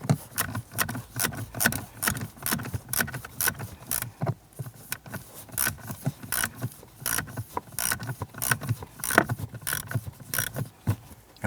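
Small screws are snugged down by hand to mount a blower motor resistor on a 2005-2007 Ford Five Hundred, giving steady close-up metallic clicks and light jangling taps that continue throughout.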